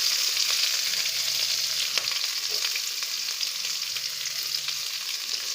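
Onion, green chili and curry leaves sautéing in hot oil give a steady, close sizzle with occasional stirring scrapes, no voices throughout.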